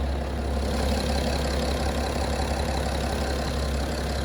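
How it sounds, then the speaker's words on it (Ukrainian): A 2017 BMW 330d Gran Turismo diesel engine idles with a steady, low rumble, continuous and even throughout, close by, with no voices over it. "Ну двигун робить пісня взагалі."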